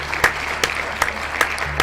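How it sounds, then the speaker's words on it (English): Studio audience applause during a live Sunday horror-story show, a steady wash of clapping with a few sharp louder bursts spaced through the short stretch, no talking over it. "Round of applause."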